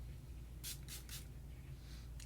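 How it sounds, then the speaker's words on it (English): Three quick hissing bursts of a fine facial mist spray with aloe and rose water, in close succession, soft and near, over a low background hum. "It's skincare facial spray with aloe herbs and rose water."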